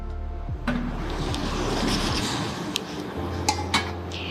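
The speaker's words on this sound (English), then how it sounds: "Lasagnara, this is a small pot with lid." Metal AMC cookware pot and lid being handled, giving a few light clinks and taps against a steady background hum, with no talking.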